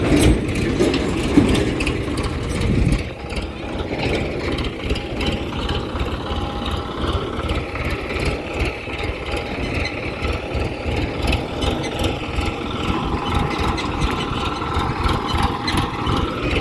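A wheat thresher's engine runs steadily and close by, a continuous mechanical drone with rattling, ratchet-like clatter throughout, louder for the first few seconds.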